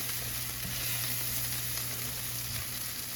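Chopped onion frying in a pan makes a steady close sizzle with a low background hum and a couple of soft stirring bumps, and no voice is heard.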